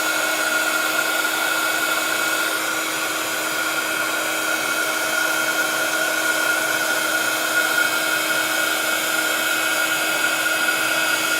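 A heat tool blows hot air from underneath a crafted paper bouquet, a steady close whirring hiss with a high whine that holds constant and uninterrupted for the whole stretch, with no talking.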